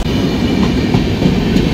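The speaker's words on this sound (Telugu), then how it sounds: "ఇప్పుడైతే మనం కొత్తగూడెం రైల్వే స్టేషన్‌లో ఉన్నాము" A train at Kothagudem railway station rumbles loudly and close by, its low roar steady with faint rhythmic wheel clatter over the short stretch.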